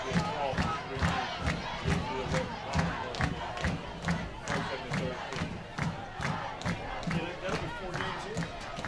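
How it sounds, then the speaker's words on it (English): A high school football student section at Apex vs. Middle Creek roars in a steady, rhythmic chant with pulsing claps or stomps, a dense crowd sound that fills the whole stretch. "you can hear the number one state student section cheering"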